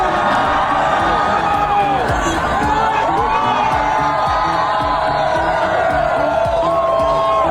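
A large crowd at an eating contest roars and cheers continuously, a dense wall of voices and shouts filling the whole stretch at high volume.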